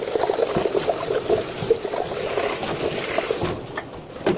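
Running water rinses the removed parts of a juicer machine, no soap used, a steady trickling and splashing that stays fairly loud throughout and thins out near the end.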